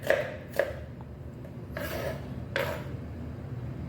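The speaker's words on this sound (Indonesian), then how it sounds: "Nah ini diiris aja kayak gini, simple aja, bumbunya diiris doang." Knife slicing shallots on a cutting board, a few distinct crisp cuts spaced irregularly, close and fairly quiet with soft scraping between.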